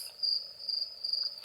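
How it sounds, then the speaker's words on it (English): Crickets chirp in a steady, continuous high trill with no break, heard on their own without any voices. "crickets."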